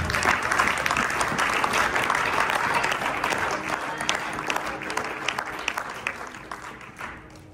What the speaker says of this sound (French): Est-ce que tu peux acclamer encore plus fort?